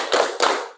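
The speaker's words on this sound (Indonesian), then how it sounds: "Tepuk semangat." Two sharp, loud group claps in quick succession from students standing in a junior high school classroom, a short rhythmic spirit clap, each burst ringing briefly before fading.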